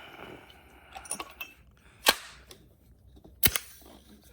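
Gunshots ring out during FSC barrel extension testing: two sharp, loud cracks a little over a second apart, with lighter clicks and handling noise between them.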